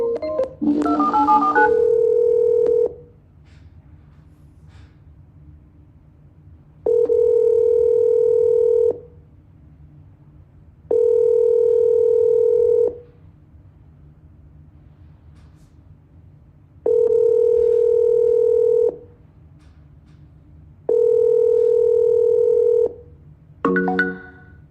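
A telephone call rings out on the line: a brief burst of dialing tones, then four evenly spaced long ring tones separated by silence, with a low steady hum underneath.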